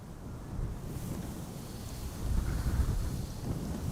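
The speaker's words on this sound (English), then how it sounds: "Again, a gust of wind." Gusty crosswind buffets the microphone at an airport during live plane spotting, a steady low rumble swelling into a stronger gust midway, with no talk.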